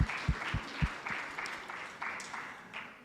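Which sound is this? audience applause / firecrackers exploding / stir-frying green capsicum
audience applause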